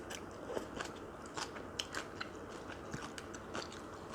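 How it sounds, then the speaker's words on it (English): Crunchy bean sprouts in Korean hangover ramyeon are chewed up close, a quiet run of crisp, irregular crackling bites and crunches. "Can you hear how crunchy those bean sprouts are?"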